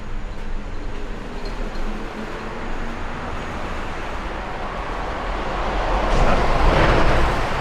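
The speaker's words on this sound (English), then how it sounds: "it's going to be really loud out here, guys, because of the traffic and the wind" Continuous roar of traffic and passing trains on Tokyo's Rainbow Bridge, a broad rumbling wash with wind, swelling louder toward the end as heavy vehicles roll by.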